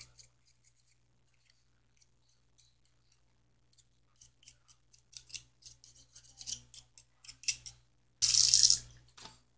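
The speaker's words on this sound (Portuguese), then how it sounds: "Agora nós vamos lavar as nossas mãos" Tap water running into a sink while hands are washed during pizza cake dough preparation, quiet rubbing and splashing that ends in a short loud gush of running water.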